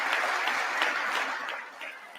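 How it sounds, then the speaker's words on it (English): Republican members of Congress applaud during a State of the Union address, a continuous, fairly loud wash of clapping from a large crowd that fades slightly toward the end. "Even the Republicans are clapping for this horse shit."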